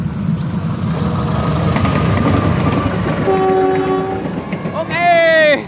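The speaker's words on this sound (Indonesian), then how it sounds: "Luar biasa ini kereta api." Two trains rumble past loudly at a rail junction with rattling wheels, then a horn blasts near the end.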